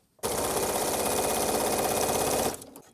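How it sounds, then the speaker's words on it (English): A sewing machine runs a straight line of stitching through fabric for a simple Christmas tree pillow, a loud, rapid, even whir of needle strokes that starts abruptly and stops after about two seconds. "I'm just going to do some straight line stitching for this long"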